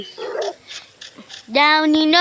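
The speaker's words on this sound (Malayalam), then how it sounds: "പട്ടി പട്ടിയൊക്കെ കടിക്കുകയാണ്" A video-game dog barks in short yaps, then lets out a long, high whine, with voices talking over parts of it.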